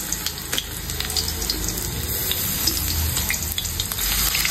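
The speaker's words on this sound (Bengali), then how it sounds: "চলো রসুন ফোড়ন দিয়ে দিলাম" Garlic tempering in hot oil on a home stove, a steady close crackling sizzle with faint clinks, running alone without talk.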